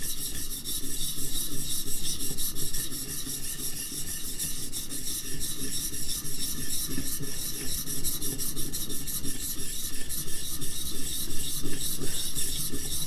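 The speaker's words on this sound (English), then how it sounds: "So nice to know that you can sharpen more than just knives with your Viper Sharp" A chisel being sharpened on a Viper Sharp sharpener gives a continuous, close, loud rasping scrape, with rapid regular strokes running throughout and no voices.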